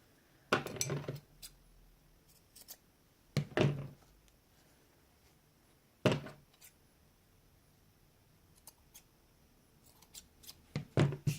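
Scissors snip through fabric while a cute decorative doll is made, in short clusters of crisp cuts separated by quiet pauses, close and fairly soft, with no speech.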